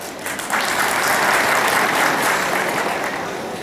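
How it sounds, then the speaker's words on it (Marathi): Sustained applause from a crowd at the inauguration of a Teli community bride-and-groom introduction gathering and haldi-kumkum event, starting after a brief quiet moment and holding steady and loud to the end. "इतकी भरभराट टाळ्या मंचावरूनच आल्या इकडनं"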